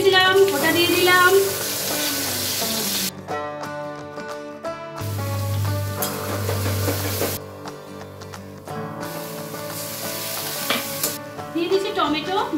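Cumin seeds, dried red chillies and bay leaves crackle and sizzle in hot oil as a tempering for a vegetarian dish, a steady hiss running under loud background music throughout.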